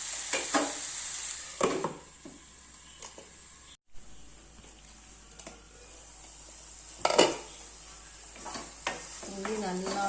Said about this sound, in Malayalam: മൂടി വെച്ച് ഫ്രൈ ചെയ്യും.